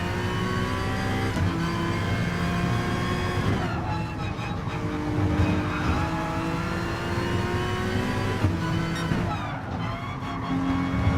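A Lamborghini race car in Green Works livery, racing in the GT Sport video game: its engine roars loudly and steadily up close, pitch climbing and dropping through gear changes as it runs bumper to bumper with other cars.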